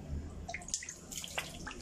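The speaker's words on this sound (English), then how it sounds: "I've come to wash my face" Warm water splashes and drips in a sink while a face is washed, soft irregular trickles and small splashes at close range, fairly quiet, no speech.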